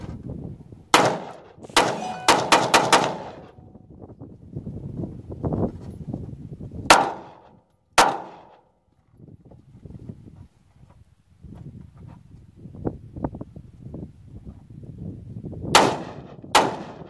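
Gunfire from an M1911 pistol and an AR-15 rifle, with a tracer round among the shots. The loud, sharp reports come singly and in quick clusters spread across the clip, with quieter rustling and handling noise between them.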